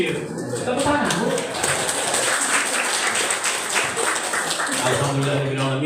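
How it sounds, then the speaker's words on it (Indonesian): An audience at a constituency recess meeting in Bangka claps to welcome the master of ceremonies. A loud, continuous wash of applause runs under and between people talking, with the voices clearest at the start and the end. "Kita sambut MC pembawa acara yang super dahsyat"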